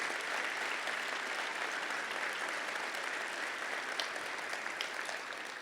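Steady, dense audience applause fills a university event hall as the Board of Governors of Marshall University stands to be recognized, clapping held at an even level throughout with no voices over it.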